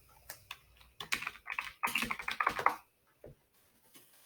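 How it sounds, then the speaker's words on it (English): A computer keyboard being typed on up close, a quick burst of crisp clicking keystrokes that speeds up into a dense run, then stops with one or two stray taps, no voices. "You type in Skiff Life."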